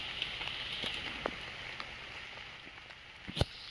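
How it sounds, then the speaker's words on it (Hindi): Light rain pattering on a wet road, faint and steady, with a few sharper drips and knocks standing out. "और पूरा बारिश, पूरा मौसम बारिश का है"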